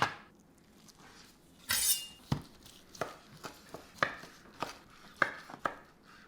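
A knife slices through a rested dry-aged blue cheese steak on a board, a series of distinct close chopping taps at an uneven rhythm after a short rustle, quiet with no talking.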